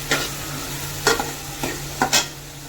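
Garlic frying in hot oil while being stirred, a steady close sizzle punctuated by four or five sharp scraping strokes of a spatula, with no voices.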